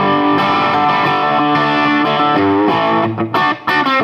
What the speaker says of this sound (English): Get a little bit of distortion on that, you really hear the breathy airiness of this guitar quite clearly.